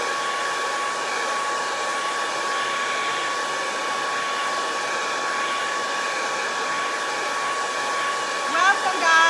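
A hair dryer blowing steadily as it dries paint on a handmade craft birdhouse, a loud continuous whooshing drone that holds even throughout, with a slight fluttering change near the end.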